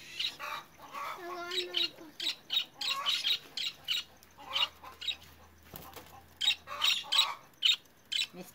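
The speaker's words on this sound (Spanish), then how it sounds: "Pajaritos ahí" Small birds chirp in quick bright bursts, close by, throughout the clip, beside an outdoor cooking spot where chiles are being roasted, with a brief low hum partway through.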